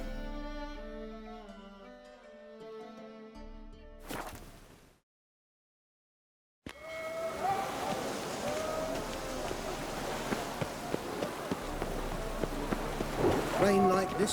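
Steady rain and distant rumbling in The Witcher 3, a broad hiss of downpour with scattered sharper drops, entering after a tonal passage and a brief gap of silence.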